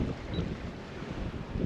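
Wind buffets a sailboat leaving its anchorage at Cala S'Aguila d'Olla, a steady broadband rush of gusting air and boat noise at close range under an 18-knot true wind, with no voices.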